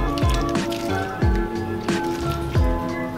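Grated tapioca is squeezed by hand in a bowl of water, giving four or five wet squelching squeezes in a steady rhythm, close up and with no talking.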